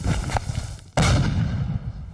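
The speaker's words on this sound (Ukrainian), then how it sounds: "Постріл!" A single sharp gunshot cracks out loudly in the middle, followed by a rumbling echo, with another duller report shortly before it.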